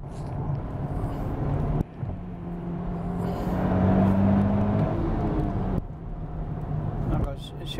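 A new Nissan Fairlady Z cruises along a winding highway at about 120 km/h, giving a steady engine drone and tyre rumble with rising revs and gear-change dips, while someone talks over it throughout.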